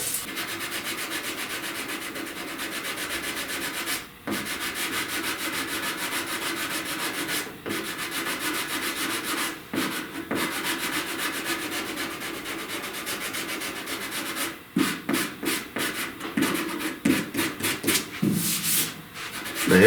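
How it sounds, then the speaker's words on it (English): Continuous abrasive scraping as 80-grit sandpaper on a Rage Ultra block cuts body filler during cab corner dent repair, steady rubbing strokes throughout, growing choppier and louder near the end, with no talking. "And this Rage Ultra will cut with 80 grit pretty easily."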